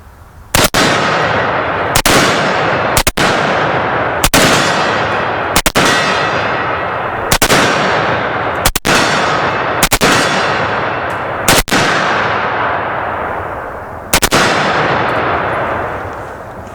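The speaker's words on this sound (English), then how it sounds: "I was actually ringing some steel there." Rifle fire including an FAL ringing steel targets outdoors, about a dozen loud sharp shots at irregular intervals, each followed by a long ringing decay, with no talking.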